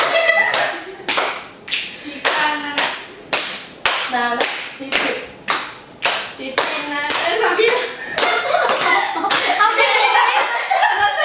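A group of children and adults plays an Indonesian concentration clapping game, with sharp hand claps and thigh slaps in a brisk repeating rhythm, close and loud, while voices chant along and grow busier toward the end.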